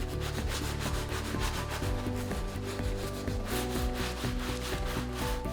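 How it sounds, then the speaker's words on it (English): Steady scrubbing and rubbing across a Polytek floor to loosen and lift dirt, a continuous close, dense friction sound with a slight rhythmic back-and-forth and no speech. "I'm now going to finish rubbing the floor, trying to get all that dirt up"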